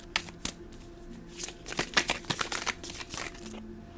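Tarot cards being shuffled by hand close up, a series of quick riffling bursts and soft slaps that come in irregular clusters, no speech.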